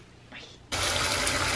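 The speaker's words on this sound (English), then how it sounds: "I'm putting the water while I wait for babe to come record for me." A bathtub starts filling with running water: a faint sound at first, then a sudden loud, steady gush from the tap that continues evenly to the end.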